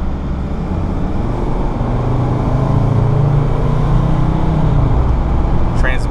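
A 2003 Sprinter conversion van's diesel engine pulls at about 40% throttle, a steady, loud low rumble that rises slightly in pitch as it accelerates, with road noise throughout.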